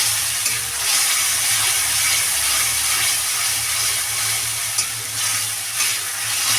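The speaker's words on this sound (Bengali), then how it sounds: "ভালো করে একটু কষিয়ে নেবো" Tomato, nuts, onion and ginger sauté in a hot pan for a matar paneer dish, a loud, constant sizzle with occasional stirring scrapes close by.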